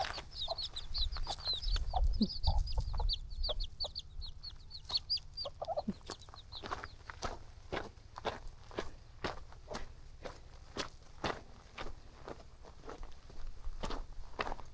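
Footsteps crunch at a steady pace while a hen clucks nearby in the Harau Valley, Indonesia, with small chirpy calls early on and no talking.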